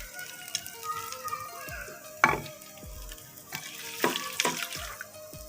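Sliced onions fry in oil in a pan for a dhaba-style mix veg dish, a continuous soft sizzle under occasional scraping stirs and clinks of the spoon, close up.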